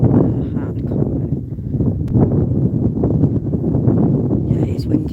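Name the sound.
wind blowing on the microphone outdoors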